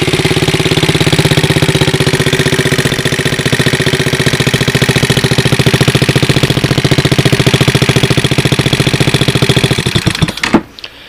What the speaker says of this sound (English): that should fire up my engine